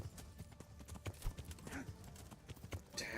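Horse hooves clip-clop steadily in Kingdom Come: Deliverance, a medieval open-world game, with a brief whinny breaking through and occasional clatter layered over the rhythmic gait, fairly close and continuous with no talk.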